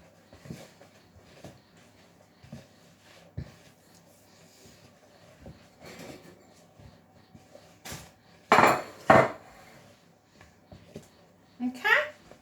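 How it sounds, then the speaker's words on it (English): A spoon clinks and scrapes intermittently against a bowl as chocolate cupcake batter is stirred round, with sharper knocks near the end, while an adult and someone talk throughout. "Hugo, round the bowl, 2 strokes in the middle."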